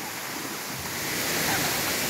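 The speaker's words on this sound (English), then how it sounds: "Have you got your own private waterfall today?" A waterfall on Nosy Be, Madagascar, roars as a steady, loud broadband rush of falling water that swells slightly toward the end.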